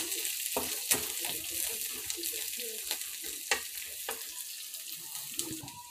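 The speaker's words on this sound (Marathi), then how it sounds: "हे बघा, कांदा छान असा परतत आलेला आहे।" Onion and curry leaves sauté in a pan while leftover rice is tempered into masala rice. A steady close sizzle runs throughout, broken by sharp scrapes and clinks of stirring, with no talking.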